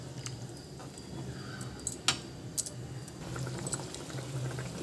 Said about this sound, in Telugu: ఇది బాగా మరగాలి.